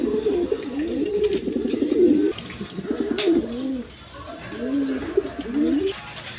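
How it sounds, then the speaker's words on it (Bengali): A pair of white Indian Lotan pigeons coo repeatedly at close range, rolling throaty phrases in several bursts with short pauses, over soft background noise. "এক পেয়ার লোটন কবুতর আছে, সাদা হোয়াইট কালারের মধ্যে লোটন, ইন্ডিয়ান লোটন"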